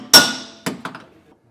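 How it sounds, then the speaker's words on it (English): A hammer strikes bolts out of a leaf spring suspension hanger on a 2020 Grand Design trailer: one loud ringing metallic blow, then two lighter clanks in quick succession, close up with no talk. "Now we're going to take a hammer and we're going to beat these bolts out the other side."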